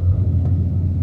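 A 1994 Chevrolet Silverado with a fuel-injected engine and only 6k miles idles nearby, a steady low rumble with an even, smooth pulse and no talking.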